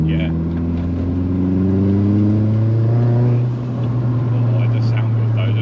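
A turbocharged Rover 220 Turbo coupe, set up for track days on gas coilovers and polybushes, revs hard close by. Its engine drone is loud and continuous, with pitch climbing as the turbo winds up.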